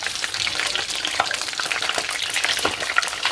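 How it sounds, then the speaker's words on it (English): Goat meat fries in a pot for jollof rice, a busy crackling sizzle with scattered pops and a few scraping stirs, close and continuous. "I'm gonna put everything in and fry it for about 10 to 15 minutes and continue."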